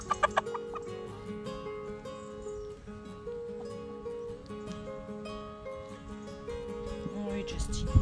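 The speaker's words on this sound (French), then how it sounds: "Les autres poules, elles sont en panique" Panicked hens in a flock cluck steadily and close by, amid a busy layered backdrop with a few sharp knocks at the start and a brief squawk near the end.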